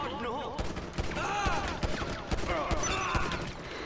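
Rapid bursts of gunfire from a gun in Grand Theft Auto, sharp repeated shots in a quick irregular rhythm over music and game sounds.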